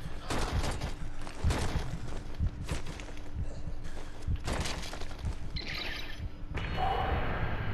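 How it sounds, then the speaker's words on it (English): Gunfire from a player shooting at zombies in the video game Zombi, a run of sharp repeated shots with mechanical clatter over a dense game soundscape, later fading into ambient effects. "I'm gonna use my gun now"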